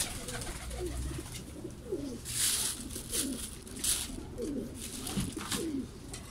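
Golden teddy pigeons with red beaks coo softly in a roomy breeding cage, several rolling, repeated calls rising and falling over a steady background hum.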